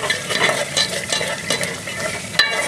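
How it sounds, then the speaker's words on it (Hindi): Garlic-ginger paste fried and stirred in a pan for a Pakistani chicken tinda curry: steady close sizzling with scraping spoon strokes and one sharper clack near the end. "इसे अच्छी तरीके से भून लेंगे। लहसुन अदरक का कच्चापन सारा निकल जाए।"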